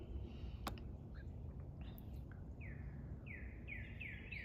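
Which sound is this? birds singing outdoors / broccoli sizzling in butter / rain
birds singing outdoors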